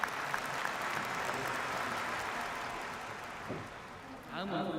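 Warm, sustained applause from an audience at an anniversary ceremony, a steady wash of many clapping hands that eases slightly near the end as a voice begins to speak.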